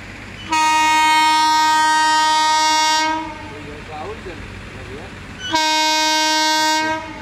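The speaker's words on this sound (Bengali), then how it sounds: "ওই দূরে আসছে কাঞ্চনকন্যা এক্সপ্রেস।" The 13150 Down Kanchankanya Express, running from Alipurduar Junction to Sealdah, approaches and sounds two long, loud horn blasts, separated by a few seconds of rumbling train noise.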